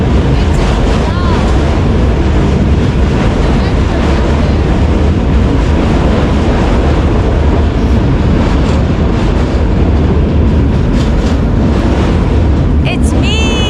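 A dense, loud roar from an Istanbul metro train passing overhead near the water carries on steadily, with a bright squeal near the end.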